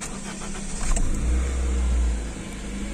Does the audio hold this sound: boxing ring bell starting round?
no